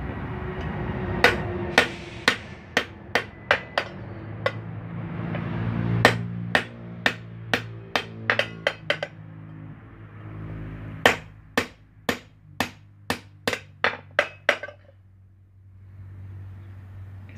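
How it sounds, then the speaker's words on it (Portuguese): A hammer striking a punch to pierce holes in a handmade metal cowbell in a Brazilian workshop, rapid series of sharp ringing metallic clanks in bursts, with a low engine-like hum underneath. "Vou furar o chocalho para colocar a azeia e o travão."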